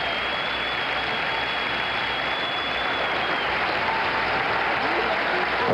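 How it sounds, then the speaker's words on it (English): A large crowd at a political party convention floor cheers and applauds in a dense, continuous roar throughout, with a faint steady tone running through part of it. "There seems to be a lot of cheering."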